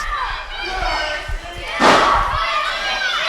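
A wrestler's body slams the ring mat with a heavy thud after a spear during a pro wrestling match, heard over a cheering crowd and ongoing commentary.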